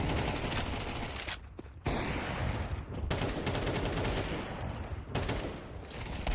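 Counter-Strike gunfire on the dust2 map rattles in rapid bursts with a few short pauses, loud and dense, without any talking over it.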